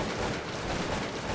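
Front ranks loose a musket volley in the video game Cossacks 2: a loud, continuous crackling burst of massed gunfire that runs for over a second.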